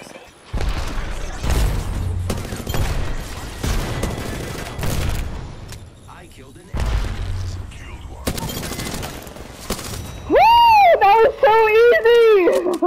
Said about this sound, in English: Grenades. Throw them in.